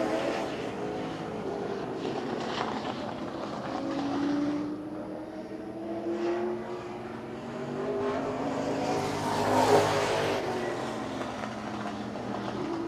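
A limited late model race car laps a 4/10 mile oval at Birch Run Speedway, its engine drone rising and falling steadily across the whole stretch, with one louder surge as it passes close by.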